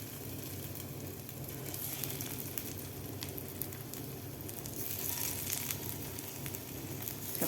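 Potato bites frying in hot oil in a pan, a steady soft sizzle and crackle with tiny popping bursts, quiet and continuous with no talking.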